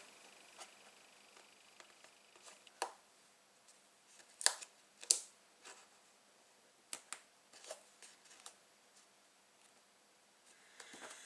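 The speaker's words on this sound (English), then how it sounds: "So I'm just going to cut that bit off." Scissors snipping a bit off a piece of craft card, a few sharp, quiet clicks spread irregularly among soft handling noises in a quiet room.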